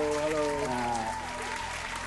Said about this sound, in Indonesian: kita sambut saja Pak Joy Manik, tepuk tangan